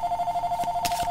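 A telephone ringing, a steady electronic warbling tone with a rapid pulsing trill, heard alone over a quiet background for about a second.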